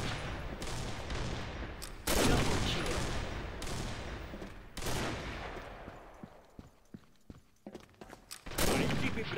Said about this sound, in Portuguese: o cara já tá atirando no barril ali